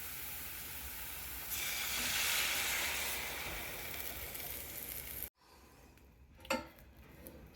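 Beaten eggs poured onto golden-brown fried onions in a pan on medium heat, a sudden loud hissing sizzle that swells and then cuts off, followed by quieter clatter.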